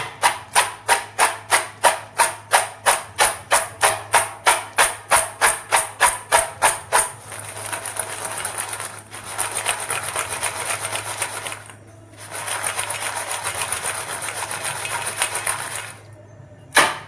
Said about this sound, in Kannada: ಇದರ ಆವಾಜ್ ಕೇಳಿದ್ರೇ ಗೊತ್ತಾಗುತ್ತೆ ನಮ್ಮ ಶೇಂಗಾ ಎಷ್ಟು ಕ್ರಿಸ್ಪಿಯಾಗಿವೆ ಅಂತ